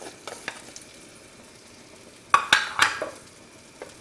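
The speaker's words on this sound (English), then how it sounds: "let it fry a little bit. We put the garlic too." Garlic fries in a pan at an Italian home cook's stove, with a soft sizzle under a few sharp clattering stirs of a utensil against the pan, heard close and without talk.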